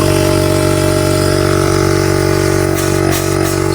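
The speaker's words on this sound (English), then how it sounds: "our pump turns on, it's creating air pressure" An air suspension compressor pump on a Mercedes GL450 runs with a steady, even mechanical hum and whine, loud and close, holding constant for the whole stretch with a slight shift near the end.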